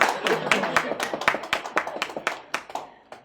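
A student claps hands in a lecture hall, a quick run of about a dozen sharp, close claps over a few seconds. The rhythm is uneven and the claps fade slightly toward the end. Faint talk sits beneath them.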